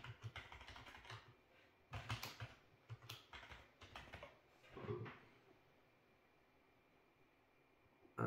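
Keys clatter on a computer keyboard as a password is typed during Windows Server 2022 Active Directory setup, bursts of quick taps with short pauses, then quiet near the end.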